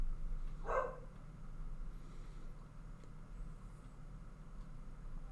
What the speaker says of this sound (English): that dog's starting to bark now